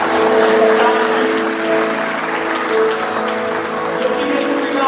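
A church congregation applauds steadily throughout, a dense wash of clapping with sustained musical tones underneath and some voices mixed in.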